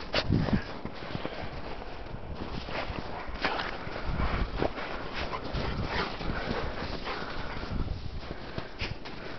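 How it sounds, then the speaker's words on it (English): A dog whines and snuffles up close amid steady rustling and scuffling footsteps, with no one talking. "Crazy dog."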